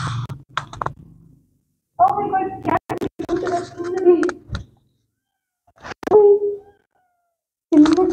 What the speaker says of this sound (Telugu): చిన్న క్యాట్ ఉందండి,